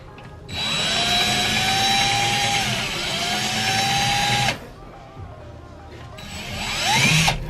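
A power drill bores holes through a mounting plate for a car rollbar, whining steadily at close range for several seconds, pausing, then starting again.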